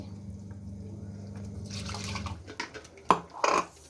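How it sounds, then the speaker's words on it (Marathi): Food ingredients are washed in water for a simple village meal: a soft, low trickle gives way to splashing and a couple of sharper sloshes near the end. "आता सगळं धुवून घालते."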